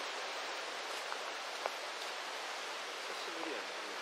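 Steady late-autumn rain falls in Mie, Japan, making a continuous, even hiss of drops with a few faint brief ticks and knocks over it; no one speaks.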